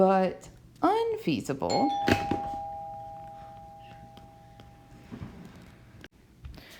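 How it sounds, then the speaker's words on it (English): A doorbell rings out with a sustained two-tone chime that lingers for a few seconds, sounding over a voice during a chemistry lecture about ether synthesis. "sorry about the doorbell there."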